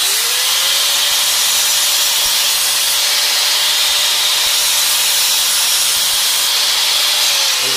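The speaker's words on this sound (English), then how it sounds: "grab your angle grinder, use a 16-inch cutoff wheel" Angle grinder fitted with a cutoff wheel running steadily for several seconds, a loud continuous high-pitched whine with a steady tone and broad hiss, no talking.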